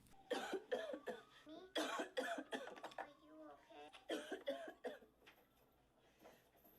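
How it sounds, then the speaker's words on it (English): A man coughs in several harsh, repeated bursts close up, with throat clearing between them, in a scene from the film American History X. "Coughing up a lung"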